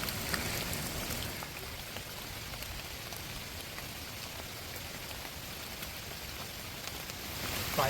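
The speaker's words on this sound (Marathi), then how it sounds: "पावसाने चांगला जोर पकडला आहे" Heavy monsoon rain on a mountain trek makes a dense, steady hiss of drops pattering on surfaces, continuous and even throughout, with no voices.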